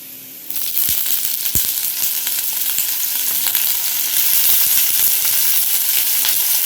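Loud, steady sizzling of plantain pieces frying in oil over a medium flame, starting with a burst as they hit the pan, with crackles and occasional clinks throughout.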